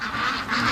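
Ducks near a lake quacking steadily at close range, a busy overlapping flock chatter with no pauses.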